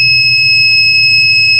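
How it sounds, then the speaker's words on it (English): A custom car alarm sounds a loud, continuous electronic tone close by, holding steady with a faint pulsing undertone and no voices. "That's my custom alarm."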